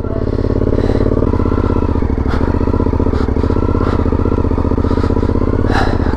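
A motorcycle engine running on sandy ground at high altitude, a loud, steady close-up rumble with some clattering and scraping, no talk.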